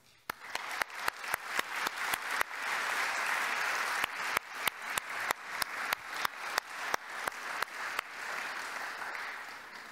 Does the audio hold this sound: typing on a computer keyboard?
no